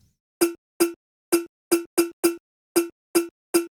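A struck bowl sample, EQ'd and driven, with a pitch envelope, fires nine short, bright, cowbell-like hits in an uneven rhythm, each a sharp attack and quick decay, loud and alone.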